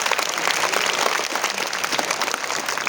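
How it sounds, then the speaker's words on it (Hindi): Audience applause at a Hindi poetry recital event, a dense, steady wash of many hands clapping that holds at full strength for the whole stretch with no speech over it. "तालियां जोर से बजानी पड़ेगी।"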